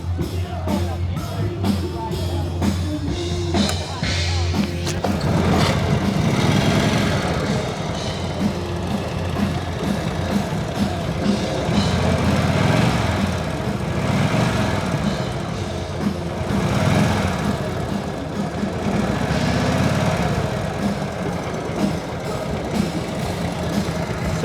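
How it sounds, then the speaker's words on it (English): A restored WWII-era Harley-Davidson motorcycle engine runs steadily at moderate volume after a kick start, with a low, throbbing exhaust that swells and eases over about twenty seconds. "The motorcycle fires on the first kick."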